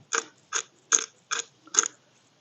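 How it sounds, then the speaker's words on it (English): Five evenly spaced crunchy ratcheting cranks of a pepper mill grinding fresh black pepper, close and crisp against near silence. "We're going to put a couple cranks of fresh black pepper."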